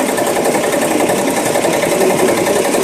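A commercial embroidery machine stitches a logo onto a shirt, producing a loud, steady high-speed mechanical chatter and whir that runs continuously and alone throughout.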